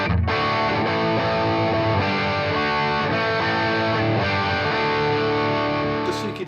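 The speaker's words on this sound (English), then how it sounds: "Now we're more toward the heavier distortion." A Fender Duel Pugilist pedal set toward its heavier distortion side drives an electric guitar, producing thick, saturated chords that ring on loudly and continuously before cutting off near the end.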